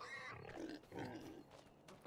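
Pigs on a farm in Farming Simulator grunt in several short, low snorts, faint and close together, with no other sounds over them.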